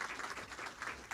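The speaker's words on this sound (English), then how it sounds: "Round of applause for that, please." An audience at a film screening Q&A applauds a film director in a brief burst of dense, continuous clapping.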